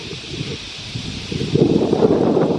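Leaves rustle in a steady breeze, the hiss swelling louder partway through, with no voices.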